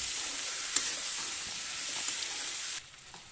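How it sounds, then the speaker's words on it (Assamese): Cut potatoes fry in a pan with a steady, close sizzle and a few faint stirring clicks, with no talk. The sizzle drops sharply near the end. "কাটি লোৱা আলুখিনি এড কৰাৰ পিছত এইখিনিক অলপ সময় ভাজিম ধুনীয়াকৈ"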